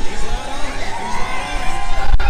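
Crowd cheering and whooping for a strongman competitor during an international strongman car walk, with his fiancée Kim among the voices; dense, lively shouting throughout, swelling toward the end.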